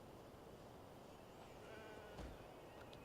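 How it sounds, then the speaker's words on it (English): Chestnut goats in the video game Genshin Impact bleat faintly. A few short calls sit over a quiet, hissy background. "So those are chestnut goats."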